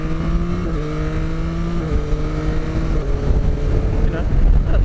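Yamaha Tracer 9 GT motorcycle engine pulling hard under acceleration, rising tone stepping up through quick-shifted gears, close and loud with heavy wind rush over the microphone.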